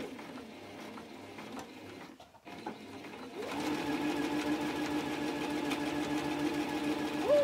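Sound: sewing machine stitching fabric

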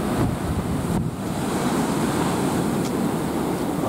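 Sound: wind and waves at the sea

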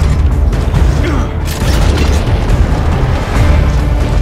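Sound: exploding wretches explosions in video game Gears of War: Judgment

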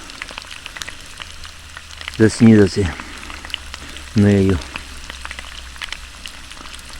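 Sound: potatoes frying in a pan while camping

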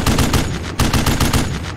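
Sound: gunfire in video game Steel Beasts

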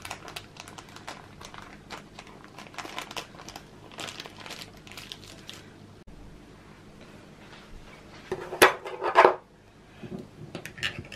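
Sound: handling crinkling greaseproof paper

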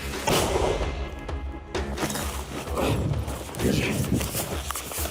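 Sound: mortar firing

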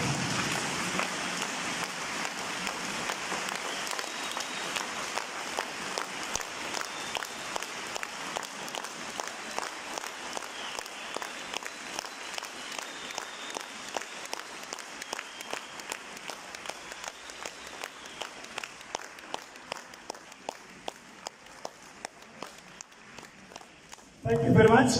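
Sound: audience applauding and clapping for speech

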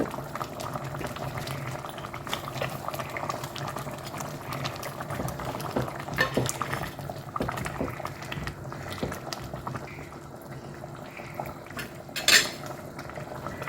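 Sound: fish curry (naaku meen kulambu) boiling in a pot

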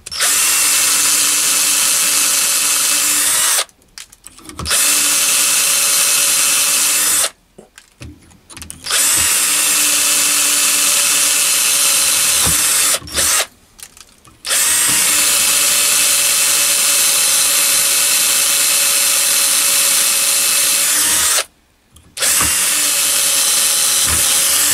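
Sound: drilling through hollow metal bar in a jig

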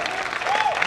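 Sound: audience applause for a competition finalist

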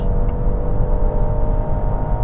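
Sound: Range Rover Autobiography PHEV hybrid accelerating on highway

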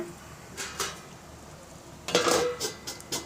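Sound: stirring rui fish chorchori in a pan, then covering it with a lid

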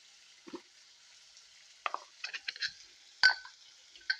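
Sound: spices frying with garam masala and cumin powder

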